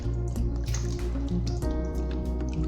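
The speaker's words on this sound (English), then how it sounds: "make sure we wash the tomatoes very well" Fresh tomatoes are washed in a bowl of water, producing wet sloshing, drips and squishy splashes in a close, continuous stream with no talking.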